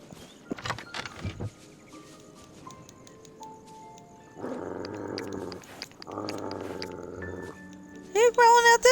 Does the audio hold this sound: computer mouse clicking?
no